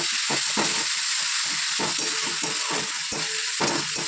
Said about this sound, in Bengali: ভালো করে কষিয়ে নিতে হবে ভালো গন্ধ ছাড়বে